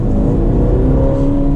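A Ferrari Portofino accelerates in first gear, its engine note rising in a loud, close, continuous drone with steady whirring tones and no voices.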